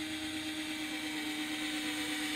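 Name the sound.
drill making a hole in a fishing jug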